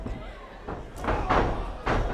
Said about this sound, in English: You could hear the thud from here.